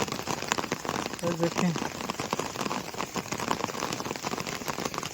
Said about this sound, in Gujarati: આવો વરસાદ પડતો રહે ને તો ફૂલ ભરાઈ જાય